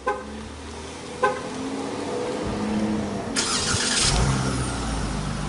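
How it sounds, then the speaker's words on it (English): Two short horn chirps from a 2020 Dodge Challenger SXT being locked, then the engine remote-starts, cranking and settling into a steady low idle nearby. "it comes with a remote start, which I think is pretty cool"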